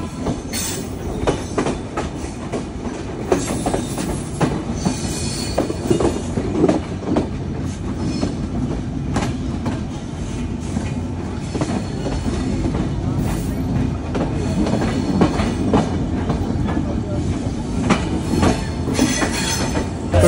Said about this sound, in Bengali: এই মুহূর্তে আমাদের ট্রেন এসে পৌঁছালো হচ্ছে পোড়াদা জংশনে